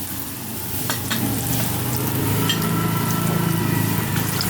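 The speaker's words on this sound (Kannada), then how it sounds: "ಸಾಸಿವೆ ಜೀರಿಗೆ ಚಿಡಿತಾ ಇದ್ದಂಗೆ ಕಡಲೆಬೇಳೆ, ಉದ್ದಿನಬೇಳೆ ಸೇರಿಸೋಣ" Mustard seeds and cumin splutter and sizzle in hot oil as chana dal and urad dal go in for a lemon rice tempering, a loud continuous crackling fry with scattered sharp pops, close up.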